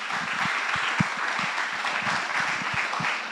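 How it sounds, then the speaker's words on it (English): An evening pitch competition audience applauds the companies that pitched, with sustained dense clapping from a large crowd that stays strong throughout, a few sharper individual claps standing out near the front. "Let's give a big round of applause to all the companies that pitched tonight."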